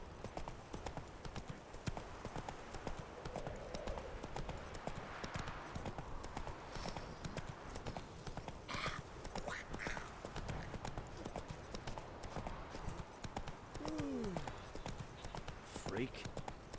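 Roach, a horse in The Witcher 3, trots with rapid, steady clip-clopping hooves throughout, loud and close, while speech overlaps the hoofbeats.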